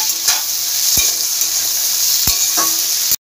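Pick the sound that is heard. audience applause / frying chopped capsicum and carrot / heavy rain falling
frying chopped capsicum and carrot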